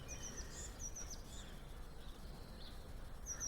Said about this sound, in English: All the different sounds of the bird song, the lambs crying for their mothers.